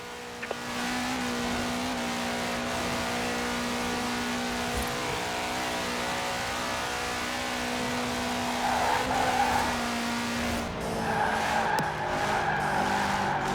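Racing car in Forza Horizon 4 drives hard with a steady, loud engine drone throughout, while tires skid and squeal in longer bursts toward the end.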